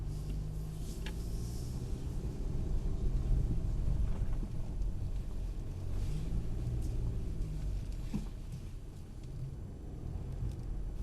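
A car drives around the Mercedes-Benz World track, its engine a steady close rumble from inside the cabin that swells and eases slightly, with wind noise.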